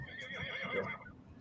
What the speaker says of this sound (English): I got his horse Bullseye.